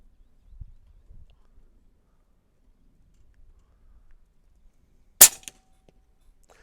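A single sharp crack from an AirMaks Arms Katran .25 airgun firing a heavy 34-grain pellet, loud and abrupt after several seconds of near silence on an outdoor range, with faint low rumbles beforehand.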